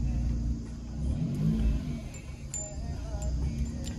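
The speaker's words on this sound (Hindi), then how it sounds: "एक बार पहले मैं अपनी गाड़ी को कर लेता हूँ स्टार्ट।" A car engine runs and revs as the vehicle pulls away on a hot day, a steady low rumble with a rising acceleration swell near the start, continuous and fairly close throughout.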